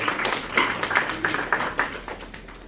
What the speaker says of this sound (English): Please, audience, have a round of applause for ma'am.